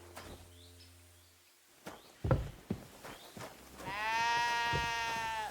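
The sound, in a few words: sheep bleating in video game Kingdom Come Deliverance II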